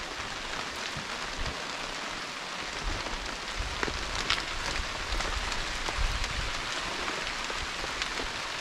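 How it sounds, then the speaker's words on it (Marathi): A heavy downpour in a Konkan village near Ratnagiri, a steady dense roar of rain beating on surfaces, loud and continuous throughout with no voices. "खूप जोराचा पाऊस आला आहे."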